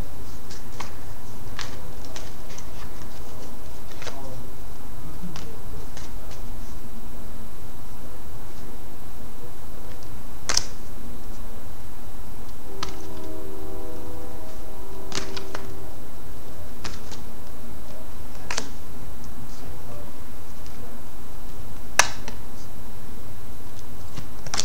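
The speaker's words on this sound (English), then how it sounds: "And I'll go ahead and shuffle the cards." Oracle card deck being shuffled by hand, a string of soft papery riffles and taps scattered over about twenty-five seconds, close and fairly quiet against a faint background hiss, with no talking.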